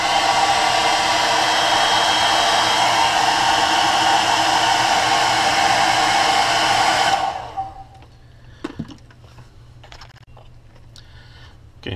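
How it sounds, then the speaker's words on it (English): A hair dryer blows steady and loud while heat-setting paint layers on a topwater frog lure, then cuts off abruptly partway through, leaving quiet room tone with a few small clicks and handling taps. "then we'll heat set all of our color layers with a hairdryer"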